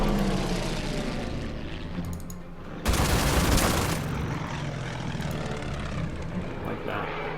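Propeller fighter aircraft engines in the World War II strategy game Order of Battle: Blitzkrieg: a steady droning roar with a sudden louder burst of noise midway, continuous throughout.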